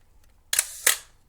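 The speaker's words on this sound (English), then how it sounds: "Let's make sure that the shutter fires." A Pentax K1000 film camera fires its shutter: two crisp mechanical clacks about a third of a second apart, close and clear in a quiet room.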